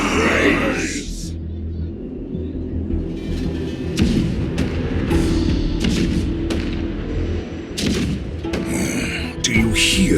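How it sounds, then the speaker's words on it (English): Cannon fire from the game Honkai Star Rail, heavy booms and a continuous low rumble running throughout at close range, with sharper thuds scattered across it and a voice speaking over part of it. "The rumble of the cannons."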